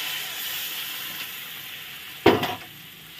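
Water poured into a pan of sizzling Kashmiri chilli powder spice paste, a sudden loud burst of hiss and spatter over a steady frying sizzle, then settling back.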